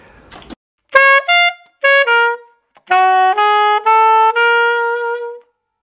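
An alto saxophone plays two short chromatic runs, crisp separate notes climbing stepwise in two groups, loud and close with no talking.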